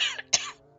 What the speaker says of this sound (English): sickly woman coughing a lot